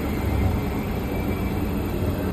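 Steady low rumble of a Marmaray metro train in motion, a constant loud roar filling the space with no voices.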